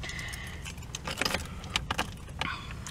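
Car keys jangle and clink close by in a few bursts while someone searches through them, with no talking.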